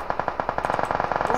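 Automatic gunfire in the mobile battle-royale game PUBG Mobile rattles off in a fast, even burst of about a dozen sharp shots, loud and continuous with no talking over it.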